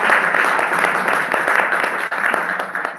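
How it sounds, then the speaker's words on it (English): Audience applause at a history museum event about the Buffalo Soldiers, a dense, steady wash of many hands clapping that holds at an even level for the whole stretch, fairly close and without any voices. "let's give them another round of applause."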